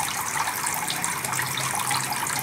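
Water flowing from a half-inch pump pipe into a fish tank in a container RAS tilapia farming setup, a steady close splashing gush that runs continuously without pause, no talking.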